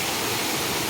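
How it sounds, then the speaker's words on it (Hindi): Deogarh waterfall gives a steady, dense broadband rush, a continuous close roar of falling water with no talk. "देवगढ़ वाटरफॉल देखो"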